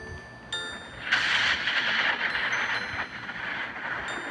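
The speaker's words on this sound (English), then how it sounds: "This is the sound of thunder." Thunder rolls in a children's sound-learning program, a broad rumbling roar that swells after a brief sharp onset and lingers for a few seconds at moderate loudness.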